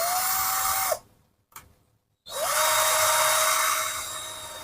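A cheap G11B1 cordless drill spins at its first speed setting, giving a high steady whine that stops, restarts with a brief burst, then runs again after a short silence, close and alone.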